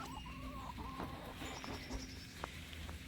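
Backyard hens cluck and murmur near a garden planting, several soft, repeated calls overlapping close by against a steady outdoor hum, with a few sharper clucks standing out.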